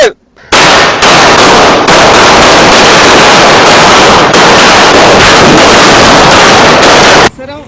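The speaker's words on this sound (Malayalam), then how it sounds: "കൊടുക്കണ വെടിക്കെട്ടിന് തിരി പൊട്ടിട്ടാണ്ട്" String of firecrackers set off at the finish of a 5 km running race, a loud, dense crackling barrage of rapid bangs lasting around seven seconds before stopping abruptly.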